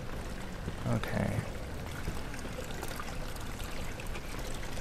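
Water flows and trickles steadily in the Amnesia video game, a constant moderate wash with a brief louder splash near the start.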